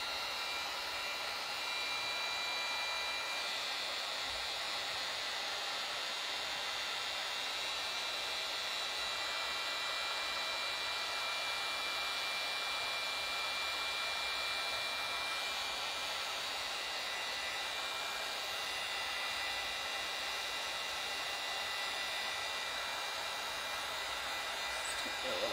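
A heat gun blowing intense heat to soften the wood fibers of a large scrolled moulding, a steady airy whoosh like a hair dryer that holds constant and unbroken throughout.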